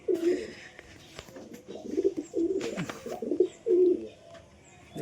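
A pet pigeon, a green kalanga variety kept at home, gives a series of low rounded coos in repeated phrases, close and fairly clear against a quiet background with a few faint clicks.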